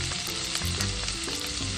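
Chopped onion and green chilli hit hot oil with already crackled dried red chillies in a tadka for a spicy Agri-style cowpea, brinjal and potato curry, giving a loud, steady close-up sizzle with soft stirring and no talk.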